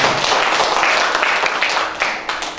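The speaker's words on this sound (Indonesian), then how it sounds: "Satu tepukan untuk Anda," Audience applause at an insurance presentation in Gorontalo, Indonesia: a dense, steady wash of many hands clapping, fairly loud and continuous, with slight swells and a few sharper claps near the end.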